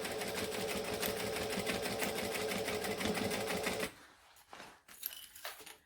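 A sewing machine runs steadily while stitching a bag, a continuous close whirring for about four seconds before it stops, leaving quieter handling noises and brief shuffles.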